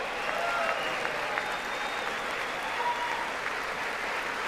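Lawmakers in the chamber of Congress applaud during a presidential address, a sustained, steady roar of many clapping hands at moderate distance with no break in the sound.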